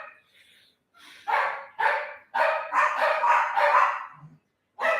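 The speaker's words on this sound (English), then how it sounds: "then they start barking." Dogs barking in a home, a series of sharp, fairly close barks in quick bursts with short gaps, no talking over them.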